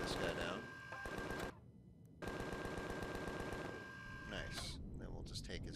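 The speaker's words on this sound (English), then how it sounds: "Let's shoot this guy down." Rapid machine-gun bursts from the Empyrion Galactic Survival game as an enemy is shot down. Two long, loud stretches of continuous fire are split by a brief pause, with a few short bursts after.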